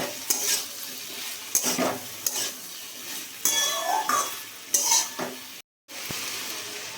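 Ground poppy seed paste is stirred into vegetables frying in a pan with a few chillies, a soft steady sizzle running under repeated scraping strokes and light clinks of a utensil against the pan.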